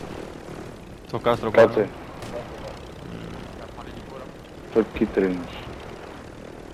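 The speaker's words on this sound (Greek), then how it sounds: "Με ελικόπτερο." A helicopter flies overhead on Rebirth Island in Call of Duty Warzone, a steady droning engine hum in the background beneath bursts of players talking.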